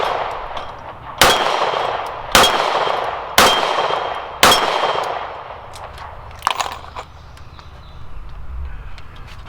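Four sharp gunshots from an S&W Model 38 revolver, each followed by a ringing clang of the bullet striking a steel target, evenly spaced about a second apart, then a fainter fifth hit and quiet outdoor background.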